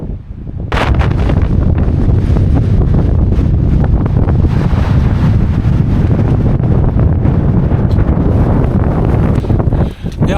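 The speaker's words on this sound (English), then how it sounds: "it's got very, very windy" Strong gusting wind on a high mountain ridge near Red Pike in the Lake District buffets the microphone in a loud, continuous roar that barely lets up, with no clear speech over it.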